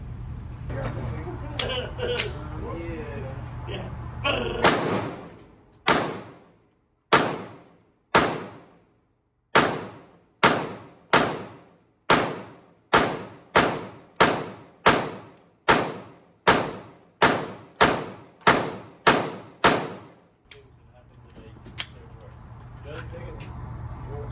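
A Glock pistol fitted with a Radian Ramjet fires about fifteen loud, sharp shots in a steady rhythm at an indoor range, with talk before and after the string of shots.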